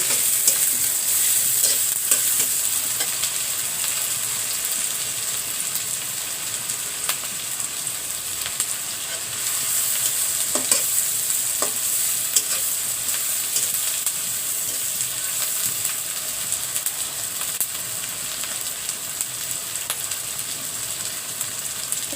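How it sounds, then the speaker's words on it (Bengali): Dried fish, onion and green chilies fry together in a pan with a constant, dense sizzle, broken by a few scattered stirring scrapes. "শুটকি আর পেঁয়াজ কাঁচামরিচ আমি ভেজে নিচ্ছি"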